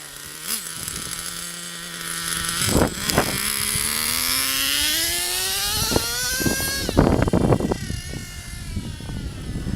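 A Traxxas T-Maxx nitro RC truck runs up and down a street, its small two-stroke engine whining and rising in pitch as it accelerates, with brief bursts and a steady buzzing drone throughout.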